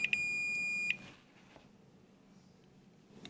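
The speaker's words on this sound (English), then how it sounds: "use your multimeter to check for continuity between these terminals." A multimeter's continuity beep sounds while testing terminals on a Frigidaire range infinite switch, a clear high tone held for about a second, then a brief chirp at the end in a quiet room.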